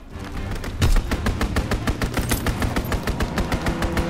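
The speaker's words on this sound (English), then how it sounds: "Enemy strafing run inbound." Strafing gunfire from an enemy aircraft in the WWII shooter Call of Duty: WWII, a loud rapid stream of evenly spaced automatic shots following an initial heavy thump, with no voices.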